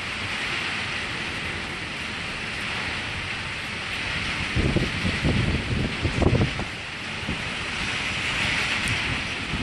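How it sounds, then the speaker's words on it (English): Wind picks up during an Oklahoma storm under a tornado watch, a constant broad rushing roar with heavier gusts buffeting the microphone midway through, and no voices. "Wind is starting to kick up."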